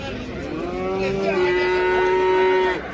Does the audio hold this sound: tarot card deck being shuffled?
no